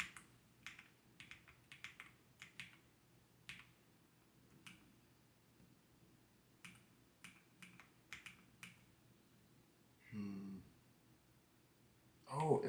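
Nuphy Kick75 keyboard typed on in sparse, crisp clicks and short bursts of keystrokes, fairly quiet and close, with a louder rustle of handling near the end.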